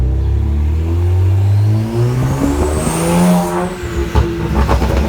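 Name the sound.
car turbos spooling, engine revving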